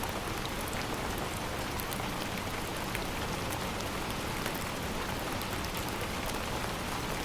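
Rain falls steadily outside a window, a dense, even patter of drops with scattered sharper ticks, continuous and moderately loud with no talking.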